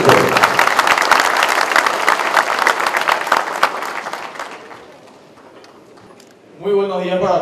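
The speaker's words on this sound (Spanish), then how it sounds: "Fuerte el aplauso de todos los presentes." A crowd at a sustainable agriculture seminar applauds the minister, a loud sustained round of clapping that gradually thins and fades before a voice begins speaking near the end.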